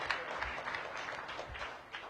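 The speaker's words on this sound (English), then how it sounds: "Give a round of applause for that." Crowd applause at an outdoor topping-out ceremony for the Cedar Hill Regional Medical Center on the St. Elizabeths East campus, a steady wash of clapping from a gathered audience lasting about two seconds.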